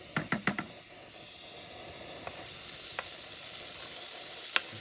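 Chilies and tomatoes fry in a pan at a campsite, with a few sharp clatters of stirring at the start and then a steady, close sizzle broken by occasional soft ticks.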